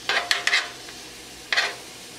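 Chicken searing in a hot pan for hibachi gives two short bursts of crackling sizzle, a cluster of quick spurts followed by a later single burst, close by with no talking.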